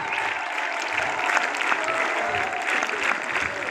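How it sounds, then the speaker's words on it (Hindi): Scouts at a boys' scout camporee in Karachi clap steadily to welcome the chief guest, a dense continuous patter of many hands outdoors, moderately loud and sustained throughout with faint voices mixed underneath. "Scouts clap, let's go."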